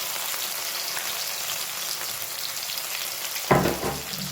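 Chopped tomatoes with red chilli fry over a full flame in a pan, giving a steady hiss of sizzling, then a louder stirring scrape near the end.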